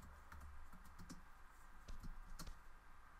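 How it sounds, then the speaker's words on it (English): Typing on a Bluetooth keyboard, a run of light, uneven key clicks clustered in short bursts, close to the mic over a low steady background hum, with no talking. "If I can type, I got like a, a Bluetooth keyboard"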